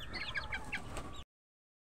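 Gamefowl broodstags and hens cluck and chatter close by in a busy, overlapping flock for about a second before the sound cuts to silence.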